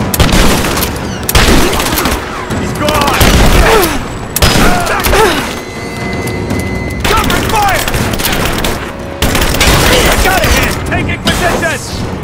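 Gunfire in Rise of the Tomb Raider: loud, close bursts of shots and booming impacts come in repeated clusters with splintering cracks between them, while voices shout throughout.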